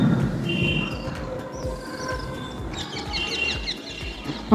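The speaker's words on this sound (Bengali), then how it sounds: "দেখো কত পাখি উঠছে" Several birds, including parakeets, chirp and call in bursts as they take flight over a busy outdoor background, calls growing denser toward the end.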